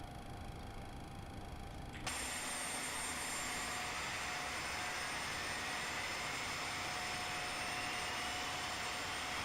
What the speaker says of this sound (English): And engine number 1 is now spooling.